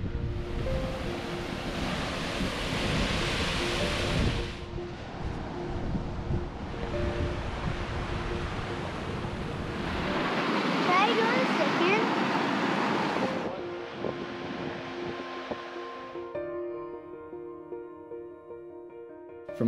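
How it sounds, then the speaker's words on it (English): Roaring Icelandic waterfall seen from the top, a broad continuous rush of water mixed with gusty wind buffeting the microphone, with a soft sustained tonal backing near the end. "Where we could view the waterfall from the top."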